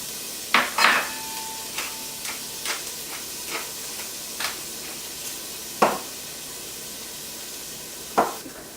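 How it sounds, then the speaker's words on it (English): Garlic and onions fry in a pan under a steady soft sizzle, with a utensil stirring and knocking against the pan in irregular clear taps. "Now you can add the garlic and remaining onions and season with salt and pepper. Then you're going to want to let this cook for about 10 minutes"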